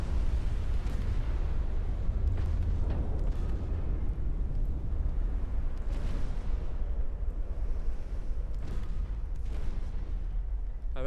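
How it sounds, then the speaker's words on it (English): A big explosion from naval gunfire in the video game Ultimate Admiral Dreadnoughts, set in a 1900 British campaign: continuous loud rumbling booms and heavy blasts fill the whole stretch, dense and low. "Big explosion."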